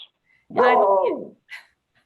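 A dog at home gives a single drawn-out bark or howl-like yelp, fairly close and clear, followed by a short softer yip during a quiet online board meeting.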